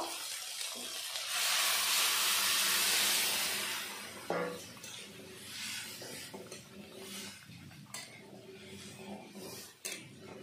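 Moong dal goes into a pan of hot spiced masala with cumin and tomato, setting off a burst of loud sizzling that settles into a softer fry with a few scraping stirs.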